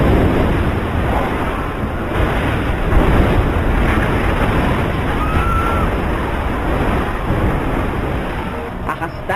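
Huge waves of the 2004 tsunami crashing in a dramatic scene from a Clint Eastwood film, a loud continuous roar of churning water and wind with no let-up throughout.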